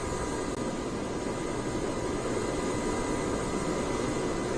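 A continuous deep roar of SpaceX Falcon 9 Merlin rocket engines during a night launch after max Q rumbles steadily, broad and powerful, with no breaks and no voices.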